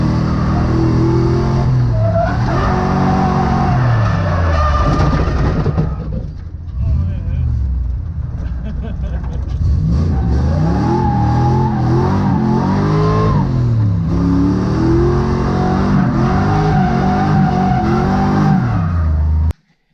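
A Nissan S14 Silvia drift car fitted with a 1UZ engine revs hard and loud up close, with its pitch climbing and falling in repeated sweeps and a short easing-off partway through before it builds again.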